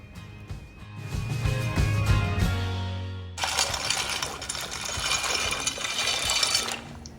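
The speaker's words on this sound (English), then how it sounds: "Water is boiling. I'm adding 450 gram of penny pasta" 450 grams of dry penne pasta pour into a pot of boiling salted water with a little oil, starting with a few hard clatters, then a dense, hissing rush of pieces and bubbling that lasts several seconds.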